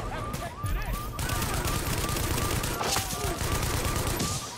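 Rapid gunfire from the video game The Division rattles on almost without a break, with bursts of shots close by and a player talking over the shooting.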